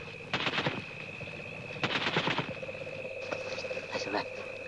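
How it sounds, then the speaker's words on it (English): Machine gun fire from a 1952 jungle plantation war drama, heard as bursts of rapid rattling shots, somewhat distant, separated by pauses over a steady high background drone. "They've got a machine gun."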